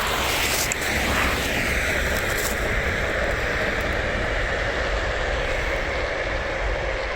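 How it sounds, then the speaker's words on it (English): A loud, continuous roar of a train going past nearby, a dense rumbling wash with rattling that stays steady for several seconds. "Oh my god, a train!"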